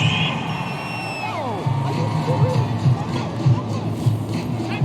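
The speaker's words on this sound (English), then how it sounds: "This home crowd, they're happy with that call." Home crowd at a football game roaring after a referee's call on a fourth-down play, a loud, sustained mass of cheers, yells and whoops swelling and persisting throughout.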